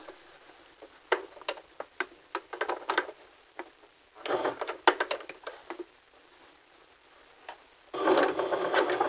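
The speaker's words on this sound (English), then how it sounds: "insert a row of straight stitching just to the right of your basting" A sewing machine runs a row of straight stitching on a pocket piece, with a few separate clicks followed by short running bursts and a longer steady run at the end, close by and with no voices.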